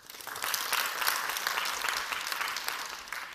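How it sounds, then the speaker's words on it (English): An audience at a talk on essential oils claps in a dense, steady burst of applause that swells quickly and holds for a few seconds, fairly distant and fading slightly at the end. "please clap your hands."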